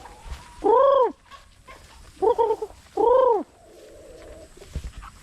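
Backyard pet chickens on a Philippine egg-gathering farm give three loud, close, drawn-out calls spaced about a second apart, with softer clucking murmurs between them.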